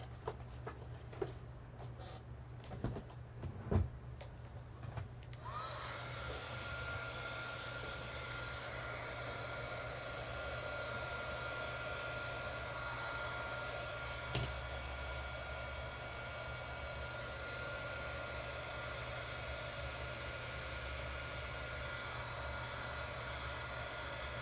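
A hair dryer blows on fresh acrylic paint, starting after a few soft taps and then running as a steady, even whir that continues alone for the rest of the stretch.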